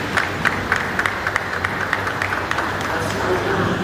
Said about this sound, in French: on va applaudir.